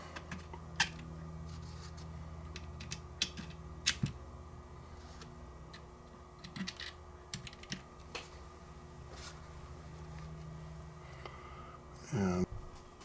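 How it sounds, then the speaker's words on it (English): Screws being snugged down on a Smith & Wesson M&P Shield Plus 9mm pistol, heard as quiet, scattered small clicks and ticks of metal and tool, with a louder rattle near the end. "right now I'm just getting the screws snug"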